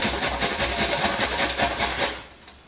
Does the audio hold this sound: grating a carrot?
yes